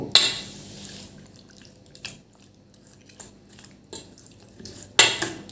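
Chilli chicken pieces mixed with egg by spoon, scattered sharp clinks of the spoon against the bowl over quiet wet squishing, close and sparse with long gaps.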